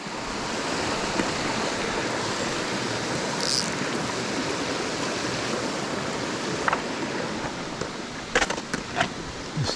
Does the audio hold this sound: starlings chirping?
no